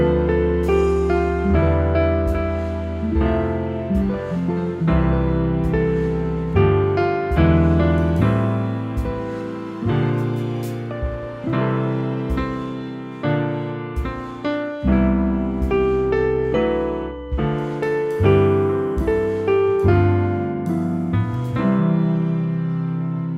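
Solo piano plays a gentle, steady melody over chords, moderately loud and close, with no voices throughout.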